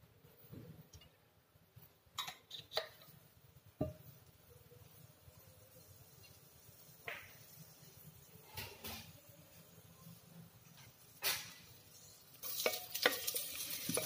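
Onions frying in a little oil in a pan over a high gas flame, with a faint, low sizzle and occasional spoon stirs and clinks, fairly quiet throughout.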